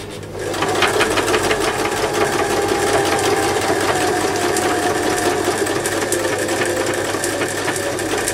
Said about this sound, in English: I'm just going to quickly do a stitch down the center so I can easily see that my machine